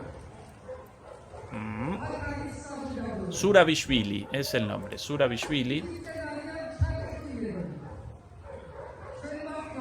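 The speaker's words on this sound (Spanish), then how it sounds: "Los perros chumbando ahí, los perros ladrando" Dogs bark and yip repeatedly in a burst of overlapping calls outdoors at a crowd gathered for a speech, mixed under someone talking nearby.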